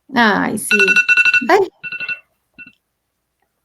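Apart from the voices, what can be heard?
phone alarm ringing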